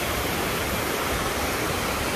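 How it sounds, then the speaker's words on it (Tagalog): Steady, dense rush of the Órbigo River flowing in La Bañeza, Spain, fills the whole clip, a constant broadband hiss without breaks, close and fairly loud. "yung tunog ng daloy ng tubig"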